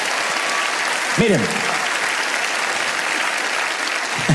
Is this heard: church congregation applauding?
yes